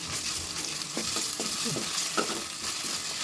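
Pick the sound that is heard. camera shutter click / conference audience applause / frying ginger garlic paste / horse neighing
frying ginger garlic paste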